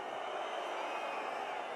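Steady roar of the home crowd in a packed stadium at a Top 14 rugby match between Union Bordeaux Bègles and La Rochelle, a dense continuous wash of voices with no single shout standing out.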